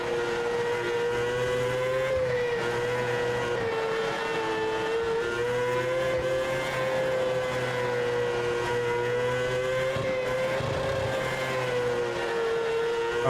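Sprint car engine in World of Outlaws 24 racing game, a loud continuous high-revving drone with slight pitch swells as throttle is held into a dirt-track corner, steady and close with no voices.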